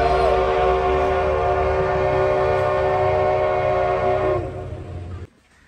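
Steam engine train on a South Dakota tourist line, heard close and loud as a sustained horn or whistle tone over a rumbling rail bed, running steadily for about four seconds before fading and cutting off near the end.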